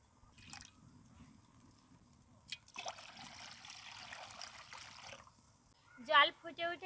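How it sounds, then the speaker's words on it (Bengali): Water is poured into a wok to boil jackfruit and potato, a close, steady trickling stream that starts suddenly and stops, with faint drips before it and brief speech at the end. "কাঁঠাল আর আলু সিদ্ধ করে নেওয়ার জন্য কড়াইতে জল দিয়ে দেবো"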